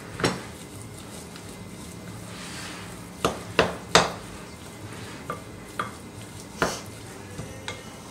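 A utensil stirs warm potatoes in a bowl, producing soft mushy mixing with a dozen or so sharp clinks and scrapes against the bowl spaced irregularly, close and moderately loud, with no talking.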